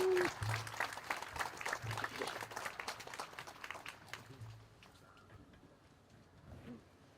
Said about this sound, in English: Please give a round of applause for our guest speaker